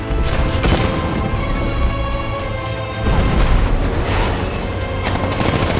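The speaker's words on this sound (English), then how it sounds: "60mm cannon operational." Heavy tank fire in Batman Arkham Knight, with booming cannon blasts and rapid gunfire layered over a dense, roaring battle din that swells again after a brief dip.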